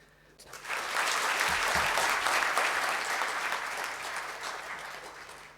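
A hall audience at a Hindi Pakhwada prize ceremony claps in sustained, loud applause that swells quickly and slowly tapers, with a brief voice underneath near the start.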